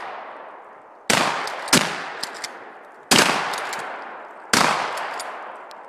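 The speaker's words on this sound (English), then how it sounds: "They're gonna shoot that." Gunshots fired at a target in the woods of northern Michigan: four loud, sharp reports at irregular intervals, each ringing out in a long echoing decay, with no talking.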